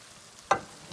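Hot water poured into a pan of stewing beef and potatoes gives one brief, close hiss of sizzling that quickly fades into a low simmer.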